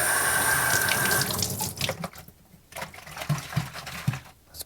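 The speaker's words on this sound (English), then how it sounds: "Let's put some hot water in there." Hot water runs from a tap into the tank of a Hoover CleanSlate upholstery spot cleaner, a steady close rush for a little over a second, then scattered splashes, drips and light handling clatter.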